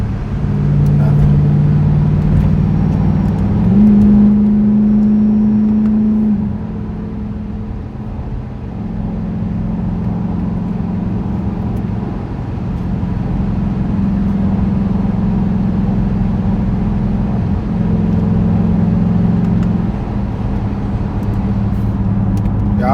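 A straight-piped Dodge Durango RT engine drones loud and close, its low exhaust tone rising and falling as the revs shift, holding steady for long stretches between changes.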